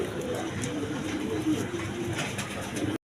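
Well-marked pigeons at a sale loft, including a Modena pair, give a steady low cooing close by, continuous for about three seconds before an abrupt cutoff.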